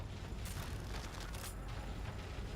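Harpoon bolts being crafted in the survival horror game The Evil Within, a steady mechanical clatter of ratcheting and creaking parts over a low rumbling backdrop, with brief brighter clicks, no talking.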